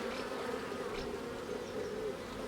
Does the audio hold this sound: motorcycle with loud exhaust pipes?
no